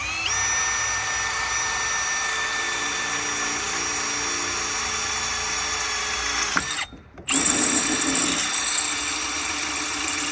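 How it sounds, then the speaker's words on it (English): Power drill boring a hole in a Rhinohide tractor canopy, a steady whining motor held for several seconds, then a brief pause and a rougher, louder burst as the bit works through, close up. "So we'll drill it down here."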